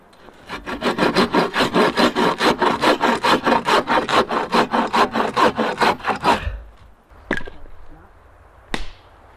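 Handsaw cutting wood logs for campfire firewood at a wild camp in Harwood Forest: a steady run of about two dozen rhythmic, rasping back-and-forth strokes, close up, followed by a pause and a couple of knocks and thuds.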